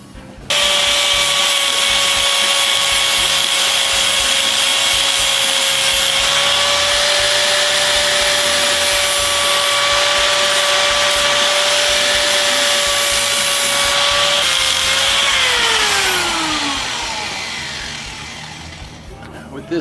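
Flap wheel on a power grinder grinding rust off a small motorcycle part, a loud steady high-pitched whine held for about fifteen seconds, then spinning down with a falling pitch as the tool winds off.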